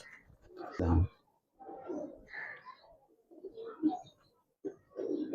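A pair of Giribaz pigeons coo nearby in repeated soft, rolling phrases with brief gaps between them, with faint talk in the background.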